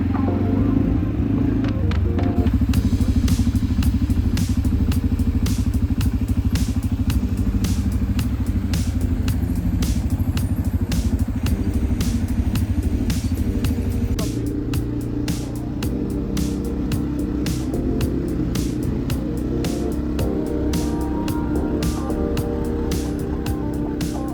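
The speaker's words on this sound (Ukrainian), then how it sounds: "Далі прийшла моя черга керувати квадроциклом" A quad bike (ATV) ridden on a rough road near Yaremche, its engine a steady loud low rumble throughout, with frequent clattering knocks over the top and no talk.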